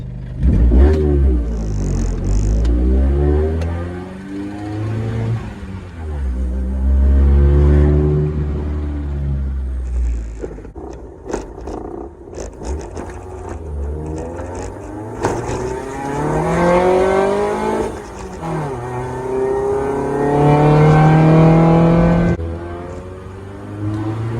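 A lowered Honda CRX drives along, its engine revving up and easing off through several rising and falling pulls, loud and close throughout with no one speaking.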